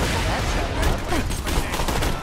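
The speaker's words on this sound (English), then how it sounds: "Oh my god, this gun shoots so fast." Rapid-fire gunshots from a weapon in the video game Borderlands rattle off in a dense, continuous burst, loud and close, with a voice faintly mixed underneath.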